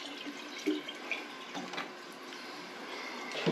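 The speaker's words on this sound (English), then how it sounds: "give the jar a quick rinse" A glass jar gets a quick rinse under running water from a tap, producing a soft, steady splash and trickle with a couple of brief sloshes, fairly faint and close, with no speech.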